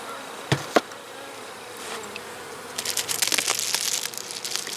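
Honey bees buzzing around a beehive during an outdoor hive inspection, a dense continuous hum that swells in the second half with insects passing close, preceded by two sharp knocks.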